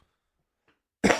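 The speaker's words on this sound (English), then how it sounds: "I got the coughs." A single short, harsh cough bursts out close to the microphone after a second of near silence.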